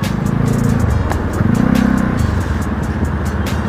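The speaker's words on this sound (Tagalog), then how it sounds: "Traffic dito." Steady low rumble of heavy road traffic on EDSA, a busy Manila highway near the MOA area, with engines idling and creeping close by, a continuous dense drone with no talk.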